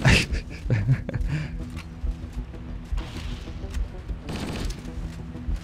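Gunfire rattles through a firefight in the video game Project Lumoria, with bursts of shots and booms over a noisy background of scattered impacts, fairly loud and irregular.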